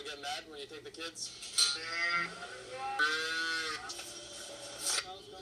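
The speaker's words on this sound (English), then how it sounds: "Cows gone crazy when I take the babies." Dairy cows mooing loudly and close by, a series of long, drawn-out calls overlapping one another, over a low steady background hum.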